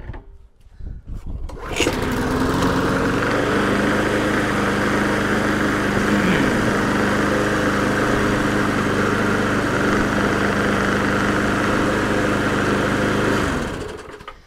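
An old, restored walk-behind lawnmower engine starts and runs at steady speed, a loud buzzing drone close by that holds for about twelve seconds before cutting off.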